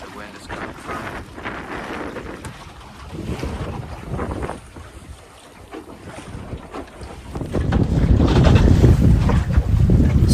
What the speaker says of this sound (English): right where the wind is coming from.